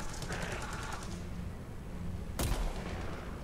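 Covering gunfire in a military shooter video game, quiet and muffled bursts under game noise, ending in one sharp loud shot or explosion near the end.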